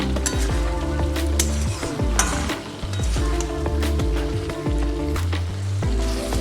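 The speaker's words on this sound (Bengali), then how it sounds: "সর্ষে বাটা দিয়ে আবারও ভালো করে আমি শাকের সঙ্গে মিশিয়ে নিই" Greens with mustard paste are stirred in a sizzling pan, with a loud, continuous fry under repeated scraping and clattering strokes of a utensil against the pan, close by.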